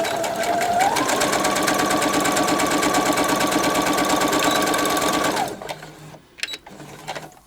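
Sewing machine running steadily with a fast, even mechanical stitching buzz, close and loud for about five seconds before stopping, followed by light handling clicks.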